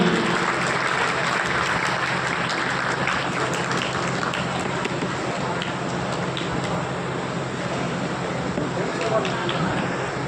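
Loud, dense applause from an audience at a community honors ceremony, a steady wash of many hands clapping continuously with no pauses.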